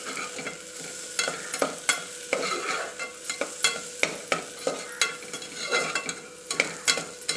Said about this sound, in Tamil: பாசிப்பருப்பு வந்து இதில் ஆட் பண்ணி நல்லா வறுத்துக்கலாம்